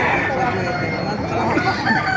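At a Baliuag pet market, a golden rooster about eight months old crows nearby over a busy hum of other fowl clucking and background chatter.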